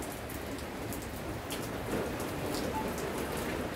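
Heavy rain falls in a dense, steady patter of drops striking surfaces, with a brief swell in intensity partway through and no voices heard.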